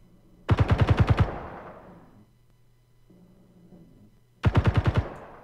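Two rapid bursts of automatic weapon fire in the Space Engineers video game, each about six or seven sharp close shots, with a short tail and a quiet gap between the bursts.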